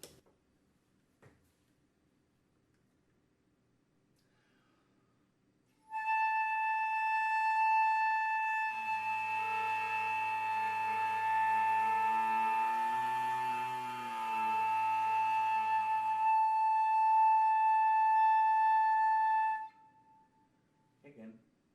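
A sustained flute tone played while the player sings into it at the same time, making a single long buzzy note of about fourteen seconds with a second wavering vocal pitch beneath it, close and steady, with silence before and after.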